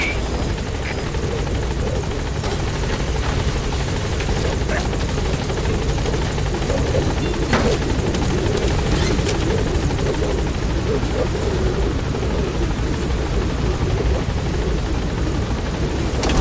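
The Pequod helicopter from Metal Gear Solid V arrives with a loud, steady rotor drone and engine roar that holds throughout without a break.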